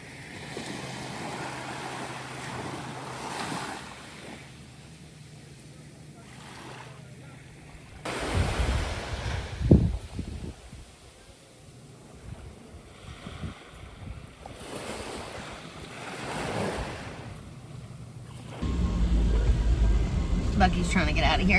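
Waves break and wash onto a beach on Vieques, a continuous surf roar with surges rising and falling, mixed with wind buffeting the microphone and some faint talk.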